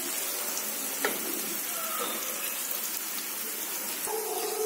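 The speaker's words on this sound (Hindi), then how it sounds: "तो इसको थोड़ा सा जब तक ये ट्रांसपेरेंट नहीं होता तब तक हम इसको पकाएंगे ऑनियन को" Onions cooking in a pan for bhindi sabji make a soft, continuous sizzle, with a couple of faint scrapes or taps from stirring along the way.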